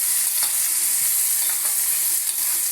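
Crushed chili, ginger, onion and garlic hit hot oil in a pan for an egg chili dish, a loud, steady hissing sizzle with a few stirring clacks, close and alone.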